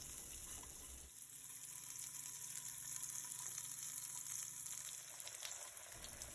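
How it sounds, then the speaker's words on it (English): Asparagus sautés in a pan with a faint, steady sizzling hiss and a low background hum, with no talking. "I'm gonna saute up my asparagus to serve on the side"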